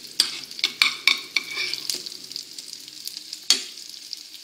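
Banana pieces caramelize in butter and sugar in a pan with a close, bright sizzle, punctuated by sharp clicks and scrapes of a utensil stirring and turning them.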